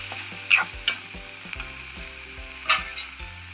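Onion, tomato, sambar powder, coriander powder and turmeric sauté in a pan for a South Indian yam tamarind curry, with a soft continuous sizzle broken by a few sharp scraping stirs.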